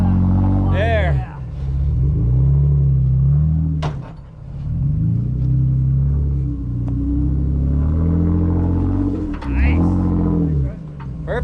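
A rock crawler buggy's engine rumbles and revs loudly as it crawls through the middle of a boulder field, the throttle rising and falling over several seconds with knocks from the rocks and people talking over it.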